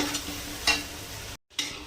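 Tomatoes, slit green chillies and spices fry in a pan for murighonto with a catla fish head, giving a steady sizzle broken by scraping stirs and one brief pause.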